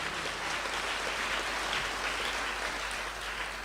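A worship congregation at a Christian prayer service claps continuously and fairly faintly, a steady distant wash of hands with a low hum underneath and no speech.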